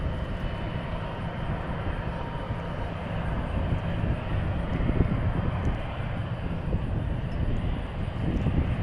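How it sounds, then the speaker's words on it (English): Qantas flight 22 airliner passing at DFW International Airport, a steady broad jet engine roar holding loud and constant throughout with wind buffeting, no voices over it. "Qantas 22 headed back to Melbourne"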